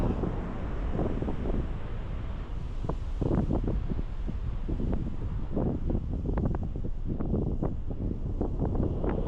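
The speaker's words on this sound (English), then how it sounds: "The wind is definitely blowing us into the to our left though at this point." Strong wind blows along the coast, roaring and buffeting the microphone continuously, with the wash of surf underneath.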